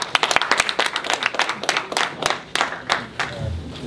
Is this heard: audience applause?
yes